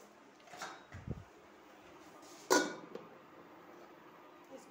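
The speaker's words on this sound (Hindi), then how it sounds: "इसका ढक दे रहे हैं अभी थोड़ा सा" A lid is set onto a pan of freshly added vegetables left to fry, giving one sharp clattering knock after a brief scrape, close by and fairly quiet over a low background.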